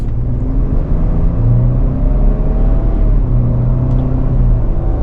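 A 2024 Ford Ranger XLT pickup with a 2.7 liter V6 pulls away, its engine rising in pitch as it accelerates, a close, steady interior rumble with no talk.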